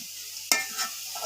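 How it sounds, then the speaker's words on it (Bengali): Washed lentils dropped into browned onions in hot oil, a sudden loud sizzle burst that keeps crackling briefly afterward, close up. "এখন দিয়ে দিব ধুয়ে রাখা ডাল।"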